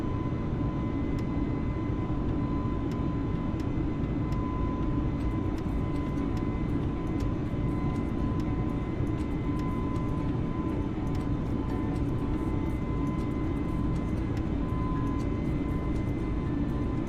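Steady, loud airliner engine roar in Microsoft Flight Simulator 2020 as the jet climbs after takeoff, a continuous broadband drone with a faint tonal whine running unchanged throughout.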